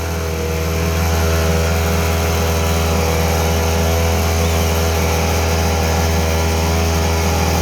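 A small engine of a mini generator on test drones steadily and loudly, a constant mechanical hum with a strong low rumble, starting up at the beginning and holding an even pitch.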